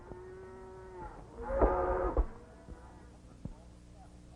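Cattle on a 1930s western ranch give a single drawn-out moo in the middle, surrounded by quieter lowing and ranch background sound.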